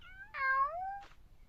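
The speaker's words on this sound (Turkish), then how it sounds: "Gene şurada çok güzel kedilerimiz var." A cat gives two drawn-out meows in quick succession, close and clear, the first rising into a long wavering cry and the second a short muffled one, over faint low background noise with no talking.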